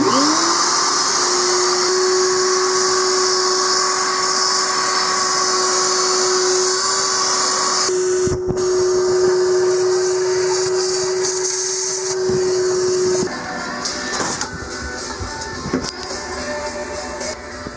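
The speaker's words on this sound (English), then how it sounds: "And I think we got a shop vac." A shop vac spins up and runs steadily at close range, a loud whining drone with a sustained tone, shifting pitch and rattling toward the end as it sucks debris during fridge repair work.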